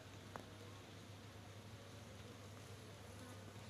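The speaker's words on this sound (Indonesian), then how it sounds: "Ini pasti ngeroyok ini lebah sama bunga markisa" Bees swarming around passion fruit flowers on a climbing vine, a soft continuous buzzing hum at low level with faint outdoor rustle.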